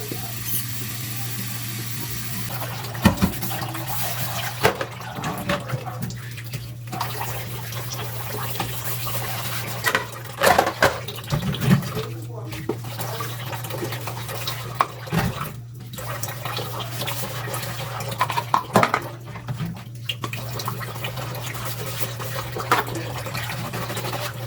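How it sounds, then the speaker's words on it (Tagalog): Dishes being washed under a running tap at home while cooking, a steady stream of water with scattered clinks and splashes over a constant low hum, no talking. "Habang nagluluto, maghuhugas na rin tayo ng plato."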